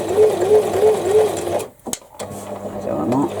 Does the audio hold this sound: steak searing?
no